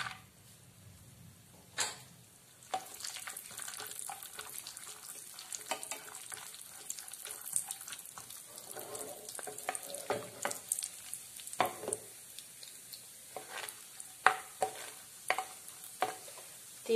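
Cashew nuts frying in hot ghee in a pan for a payasam, a steady close sizzle punctuated by repeated scraping stirs and clinks of a spoon, with no talking.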